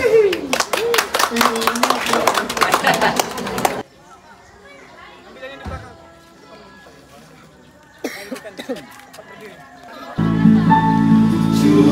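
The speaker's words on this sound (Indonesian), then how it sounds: "Tepuk tangan." A congregation at a Gereja Toraja church service in Batulicin claps hands together, a loud dense burst of many hands lasting a few seconds before dropping to quiet murmurs, with music starting near the end.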